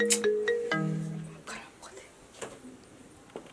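A phone ringtone plays up close as a short melodic chime of rising and falling tones in a home, with faint household sounds after it.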